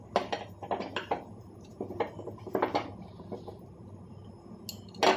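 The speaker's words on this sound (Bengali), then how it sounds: "এবারে এটাকে ম্যারিনেট করব ভালো করে।" A spoon or fingers work a marinade for chilli paneer with ginger paste in a bowl, giving a run of close, soft clinks and wet squishing taps in uneven bursts, with no talking.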